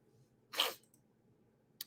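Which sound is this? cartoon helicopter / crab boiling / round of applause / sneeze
sneeze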